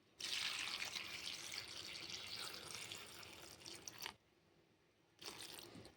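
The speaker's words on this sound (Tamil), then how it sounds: "காலிஃப்ளவரில் கொஞ்சமாக தண்ணி ஊற்றிடலாம்." Water pours and splashes onto cauliflower florets steadily for about four seconds, stops briefly, then starts again; close and fairly quiet.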